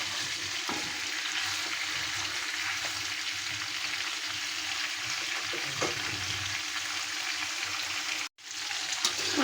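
Chicken pieces and potatoes fry in a pan for a spicy green-chili chicken curry, giving a steady, close hiss and sizzle with no talking.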